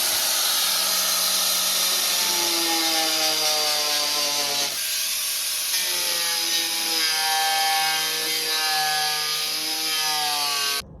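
A power tool cuts out the plastic bumper grille on a Honda Civic EK, a loud continuous whining drone whose pitch shifts up and down as the blade bites and eases, running steadily throughout with no talk.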